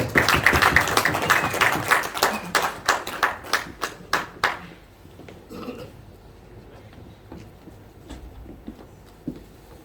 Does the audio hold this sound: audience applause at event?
yes